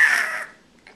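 A baby's voice imitates a bird with a loud, harsh, caw-like squawk lasting about half a second, followed by near silence and a faint trailing sound.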